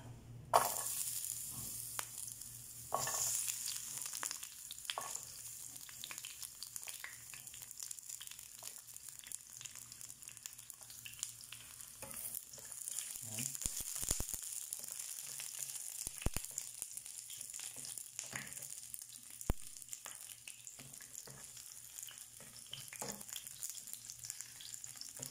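Garlic frying in a pan of sardines, tomatoes and onion, a steady close sizzle with occasional stirring scrapes and crackles throughout.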